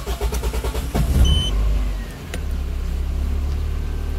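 A car engine cranks and catches while being run on a K-data kdFi V1.4 basic standalone ECU, a rapid rhythmic cranking pulse giving way to a steady, close idle rumble.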